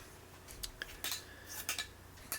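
Drywall knife scraping dried plaster off internal drywall corners: a series of short, close scratchy scrapes and metallic ticks in uneven bursts, with a faint low hum underneath.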